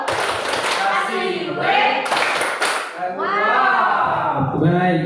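A group at a teacher training session claps a rhythmic 'tepuk wow' cheer, loud and close, while voices chant along in sung, sliding tones over the claps.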